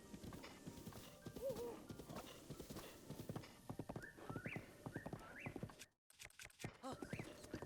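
The horse Epona in Zelda: Breath of the Wild trots with steady rhythmic hoof clip-clops and gives whinnying neighs, close and clear, with someone speaking faintly at times.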